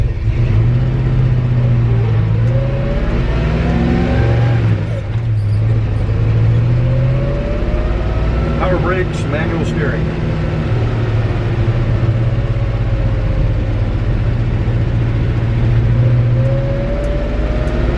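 A 1963 Chevy C30 truck engine rumbles as it drives, rising and falling in pitch through gear changes, with someone talking over the steady close drone.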